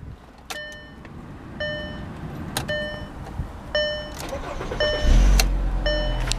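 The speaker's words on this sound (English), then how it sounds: "So we'll go ahead, start the car up." 2008 Volkswagen Beetle 2.5 convertible at startup: repeated dashboard warning chimes ring over a low hum, then the engine cranks and catches near the end with a loud surge.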